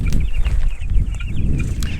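Broiler chickens in a brooder, a crowded flock of soft overlapping peeps and clucks over a low rumbling hum, close and continuous.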